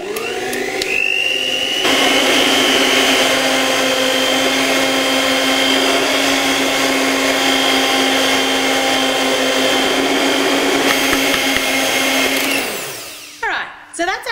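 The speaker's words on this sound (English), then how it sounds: "I'm going to turn it on to high speed and I'm going to let it mix for a further 5 minutes." Stand mixer whipping frosting on high speed, a loud, steady motor whine with a constant droning hum that runs for several seconds before winding down and stopping near the end.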